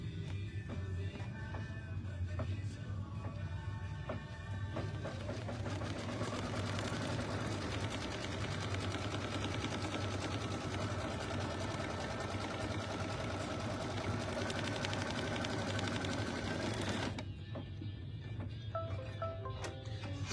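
A sewing machine stitching a placement stitch in a shop, running as a steady continuous mechanical whir for most of the stretch, moderately loud, then stopping near the end with quieter background sounds after.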